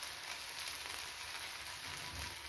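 Steady, close sizzle of capsicum and tomato frying in a pan, a continuous hissing crackle with no break and no voices.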